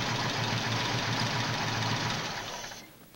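An engine idles in a steady, dense churning rumble after a switch is flipped, running evenly for a few seconds before fading away at the end.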